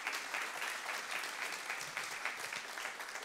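A church congregation claps steadily and densely for a few seconds, a sustained wash of hands filling the room at fairly constant loudness with no voices standing out.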